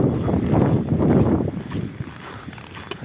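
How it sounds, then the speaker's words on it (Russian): Gusty winter wind on a Yakutsk street in January buffets the microphone in rough, roaring bursts that ease off toward the end. "прямо ветер дует."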